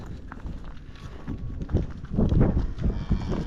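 Cattle on a farm on a cold day, shuffling and tramping nearby with low snorts and a faint moo amid rustling movement, growing louder toward the end.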